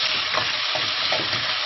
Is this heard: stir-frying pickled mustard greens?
yes